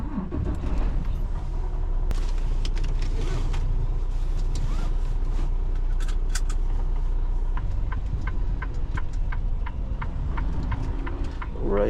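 A truck drives off, a steady low engine rumble dominating from start to finish, with a repeated ticking clicking like a turn signal in the later seconds.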